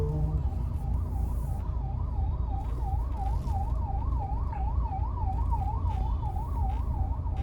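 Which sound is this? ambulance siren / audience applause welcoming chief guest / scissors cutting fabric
ambulance siren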